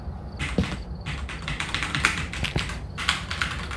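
Someone types quickly on a new clicky computer keyboard, a dense run of sharp close-up key clicks with brief pauses between bursts.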